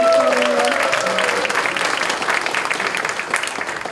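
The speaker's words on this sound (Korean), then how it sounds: "박수 한번 부탁드립니다" A crowd at a political party workshop for small business owners bursts into loud, sustained applause, with a few voices briefly audible at the start beneath the clapping.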